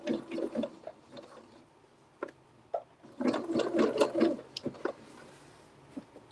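Sewing machine straight stitching quilt pieces, its motor whirring in short uneven bursts with pauses between runs, fairly close and moderate in level.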